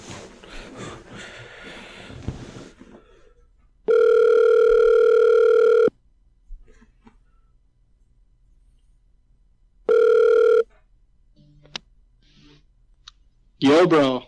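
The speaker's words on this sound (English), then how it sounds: "And now I'm just going to try and call Shayne" A phone call being placed gives two long, steady ringback tones separated by several seconds of near silence, with talking and soft handling clicks before the first tone.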